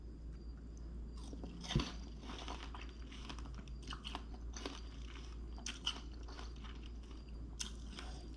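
Close, crisp crunching of star fruit being bitten and chewed, with irregular crunchy bursts over a steady low background hum.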